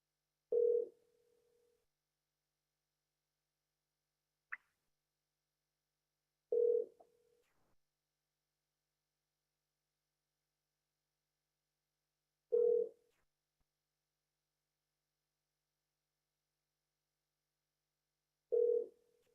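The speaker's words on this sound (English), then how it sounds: "Please stay on the line while you are connected to Jerry Hager." Telephone ringback tone on a line connecting to a mortgage company extension, four short identical rings spaced about six seconds apart with silence between them.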